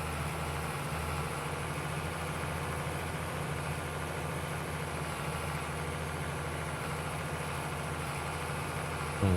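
A low, steady International Harvester tractor engine idles in the Farming Simulator 22 game during a snowy outing, a constant rumble with no break and no talk over it.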